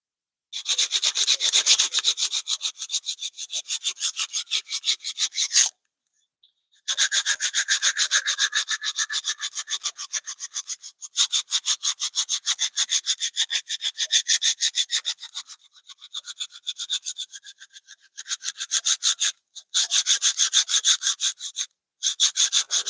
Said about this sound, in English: so there's a lot of sanding to be done there.